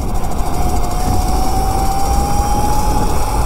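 A homemade 50 mph electric mini bike with a tiny wheelbase being ridden fast, a steady, loud motor whine that climbs slowly in pitch over a constant rushing roar of wind and road noise.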